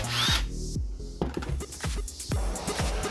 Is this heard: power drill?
yes